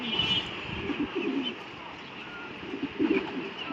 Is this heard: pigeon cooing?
yes